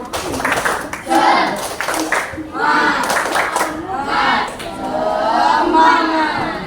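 A group of children at a school gathering does a rhythmic chant-and-clap routine, with bursts of patterned clapping between loud shouted voices, close and lively.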